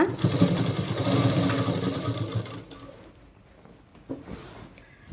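A sewing machine runs edge-stitching along a saree petticoat in a close, loud mechanical whir for over two seconds, then stops, leaving quieter handling noises and a few soft clicks.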